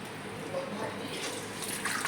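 Water from a hose splashing over a household machine as it is rinsed during cleaning, a steady close wash with dripping and trickling through the whole span.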